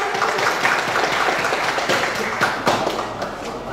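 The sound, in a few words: audience applause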